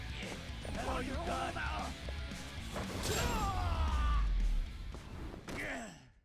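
A Dragon of Dojima uppercut lands in Lost Judgment as a heavy smashing blow amid grunting and gasping fight vocals, with a deep booming impact rumbling near the middle and a final strained cry before it fades.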